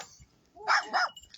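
A little Jack Russell terrier gives two short, close yips with a faint whine, brief and moderately loud, with no talking over them.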